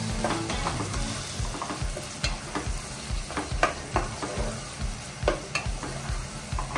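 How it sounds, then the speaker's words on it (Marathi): Onions for egg biryani sizzle steadily in a pan while a spoon stirs them, scraping and clinking at irregular intervals close by. "आता थोडा हा कांदा तांबूस होईपर्यंत असंच परतून घेऊया."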